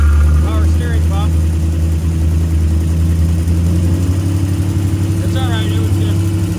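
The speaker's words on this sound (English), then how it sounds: "Power steering pump." Chrysler 360 V8 running at first fire, with a loud steady engine drone and a whine attributed to the power steering pump, while people talk over it close by.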